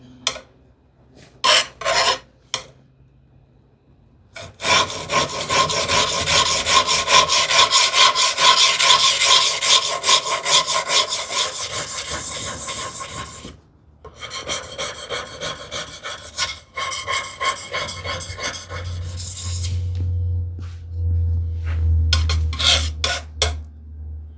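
Hand tools are sharpened with a rasping, gritty scrape in long sustained strokes, broken by brief pauses and a few sharp knocks at the start and end, close up with no talk.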